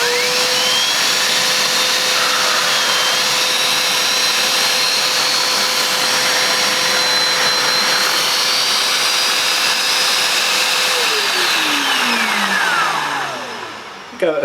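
A Vax V020TA carpet washer with Spinscrub brushes runs close and loud as a steady motor whine with a sustained tonal hum, holding level for several seconds before the pitch slides down as the machine winds off at the end.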